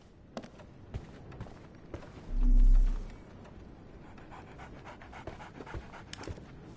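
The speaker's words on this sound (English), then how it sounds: "So, Barnes has a dog now." A dog pants steadily and close by in the Sherlock Holmes The Awakened video game, quick rhythmic breaths running throughout with a brief low thump near the middle.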